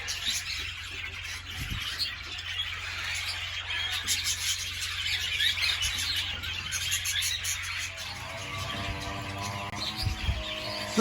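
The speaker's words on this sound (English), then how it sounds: "Budgie Aviary." Budgies in an aviary chirp and chatter continuously, a dense flock of bright twittering calls near and far, with a few louder squeaks and a low thump here and there.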